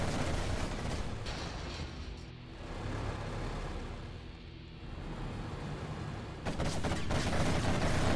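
Giant armies clash in a 3v3 real-time strategy air match, with a continuous roar of massed gunfire and rumbling explosions that dips in the middle and swells again near the end, with no talk.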